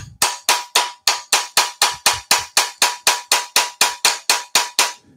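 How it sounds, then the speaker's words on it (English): About twenty sharp metallic taps from a tiny hammer adjusting a woodworking marking gauge, evenly spaced and quick, each ringing briefly before the next strike. "With the world's smallest hammer."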